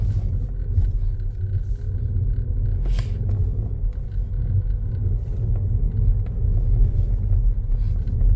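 A car moves through a turn during a driving lesson, its engine and road rumble holding a steady low drone from start to finish, with a brief brighter noise burst near the three-second mark.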